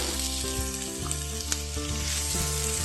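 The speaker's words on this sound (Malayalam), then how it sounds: "2 സവാള ചെറുതായിട്ട് അരിഞ്ഞു വെച്ചിട്ടുണ്ട്, അതിട്ട് കൊടുക്കാം" Two finely chopped onions fry in hot oil in a pan for paneer bhurji, giving a loud, steady, close sizzle and crackle with a few light stirring knocks throughout.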